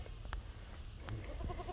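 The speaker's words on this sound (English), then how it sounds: "here she comes. Goofy little goat." A goat bleats a few times in short calls on an outdoor farm, the cries fairly close against a steady low background rumble, with no talking.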